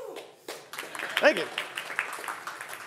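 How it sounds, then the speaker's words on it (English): Conference audience at DHIS2 Annual Conference 2024 clapping and applauding, a moderate scattered patter of many hands at mid distance, with a cheer and a voice speaking over it. "We really should have clapped more for the other products too"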